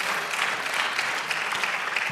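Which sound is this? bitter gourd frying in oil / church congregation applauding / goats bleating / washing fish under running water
church congregation applauding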